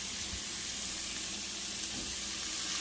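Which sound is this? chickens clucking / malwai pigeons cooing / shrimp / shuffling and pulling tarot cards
shrimp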